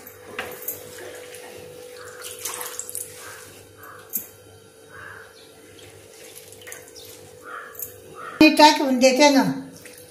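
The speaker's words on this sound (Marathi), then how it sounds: "पाणी टाकीते." Water pours into a pot of amaranth greens and millet being cooked in a home kitchen. It comes as a short, loud splashing gush near the end, with someone talking over it and quiet room noise before it.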